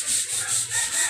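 Sandpaper rubs back and forth on a stainless steel fishing hook in short, rhythmic strokes, close up and fairly soft, with no voices.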